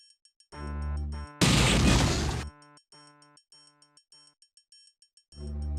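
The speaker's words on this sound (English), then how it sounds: "I think the explosion killed him, actually" A single loud explosion bursts mid-clip in the sci-fi shooter System Shock Enhanced Edition, set between tonal game music stabs and synthesized effects, with no talking.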